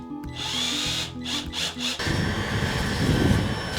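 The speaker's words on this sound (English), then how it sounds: "I'm just gonna drill in." A power drill whirs in several short bursts, then bores steadily into a wooden board with a grinding, rough texture, close and fairly loud.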